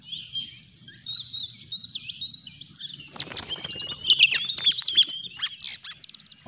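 A wild oriental magpie-robin sings outdoors in light drizzle. Faint, high warbling whistles start the passage, then a louder burst of rapid chirps and trills follows, with soft insect-like buzzing underneath.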